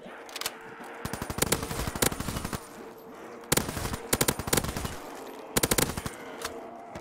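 Rapid bursts of automatic gunfire in a zombie shooter game, clustered volleys repeating every second or so with brief gaps, loud and close, backed by a steady game ambience.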